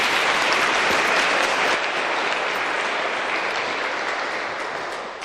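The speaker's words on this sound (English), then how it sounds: "Let's give them a round of applause" Dense, steady applause from the audience at a Veterans Day program, cheering on the Russell County junior ROTC, fills the room for several seconds and fades slightly at the end.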